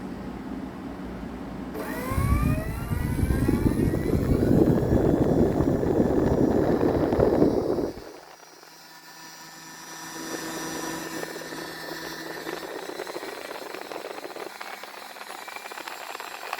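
An FMS Futura Tomahawk 64mm EDF jet's electric ducted fan spins up to a loud whining roar at roughly quarter throttle, holds steady, then drops sharply and settles into a quieter hum.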